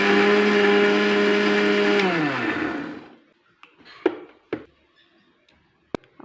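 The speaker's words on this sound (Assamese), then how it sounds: "অকণমান পিঁয়াজ পিচি ল'ম।" A blender whirs loudly as it grinds onion, bhut jolokia chili, ginger and a little water, then winds down and stops after about three seconds, followed by a few light knocks and clatters in the quiet kitchen.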